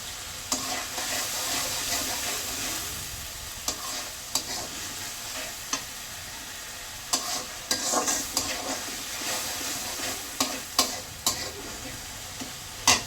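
Long beans and potatoes fry with turmeric and salt in a pan, a steady broad sizzle broken by repeated sharp scrapes and clacks of stirring, close and moderately loud with no talk.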